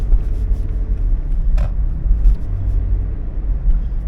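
Steady low road rumble of a car driving on rough, potholed roads with barriers during a courier delivery run, a continuous engine and tire drone with a brief higher-pitched squeak partway through.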